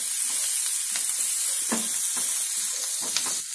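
Potatoes fry in a pan with turmeric and chopped green chili, a steady close sizzle broken by repeated scraping stirs, with no talk.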